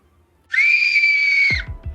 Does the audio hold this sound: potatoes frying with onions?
no